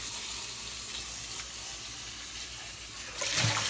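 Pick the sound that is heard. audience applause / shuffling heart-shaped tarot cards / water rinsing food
water rinsing food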